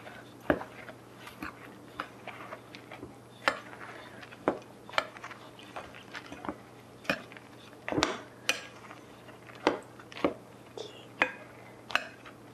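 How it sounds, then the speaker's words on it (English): Dry ingredients for almond cookies being mixed in a bowl, with a steady run of sharp clinks and scrapes from a utensil against the bowl, close and fairly quiet, repeating about once a second. "Mix the dry ingredients."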